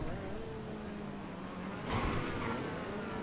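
A steady engine drone hums along, then a brief louder whoosh of a car surging past near the end.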